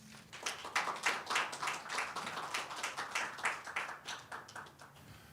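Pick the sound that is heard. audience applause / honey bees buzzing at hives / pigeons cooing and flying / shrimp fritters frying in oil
audience applause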